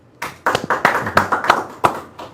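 A small studio audience on a Spanish-language medical talk show claps for an arriving geriatrician guest, a short burst of sharp, uneven hand claps close by that fades after a couple of seconds.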